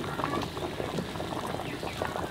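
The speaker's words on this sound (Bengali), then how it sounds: "সেই লোহার কড়াইতে রাঁধছি" Turkey meat boils in a large iron wok, giving a close, continuous bubbling and popping simmer with no talk.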